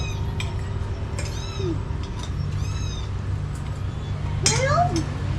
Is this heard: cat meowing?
yes